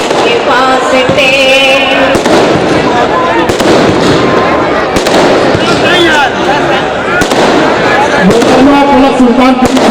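Firecrackers burst loudly and continuously through a poetry recital, with sharp cracks and pops overlapping a voice throughout.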